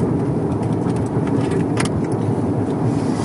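Car coasting downhill on a smooth, straight road at Wadi-e-Jin near Madina, a steady loud rush of road and wind noise with a low rumble throughout, no talking.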